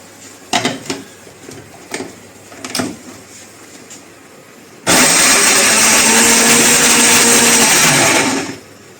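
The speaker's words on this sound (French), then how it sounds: "maintenant je vais hacher un bel oignon avec 2 gousses d'ail." Electric food chopper whirring loudly and steadily for about four seconds while chopping an onion and two garlic cloves, preceded by several short kitchen knocks and clatters.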